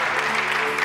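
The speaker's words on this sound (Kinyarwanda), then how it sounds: "Amashyi kwa Theoneste," A short, dense burst of steady clapping from a crowd of wedding guests, loud and continuous throughout.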